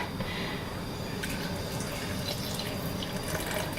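Water pours from a tap over apples in a pot for hot cider, a steady close hiss of running water with light splashing and drips, no voices.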